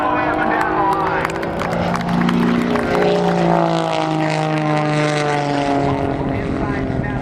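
An aerobatic propeller airplane performs vertical rolls and snap rolls at the NAS Oceana airshow, its engine droning loud and steady with rising and falling pitch as it sweeps overhead.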